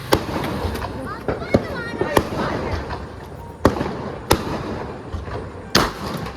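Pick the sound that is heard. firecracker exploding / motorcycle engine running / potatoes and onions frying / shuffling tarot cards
firecracker exploding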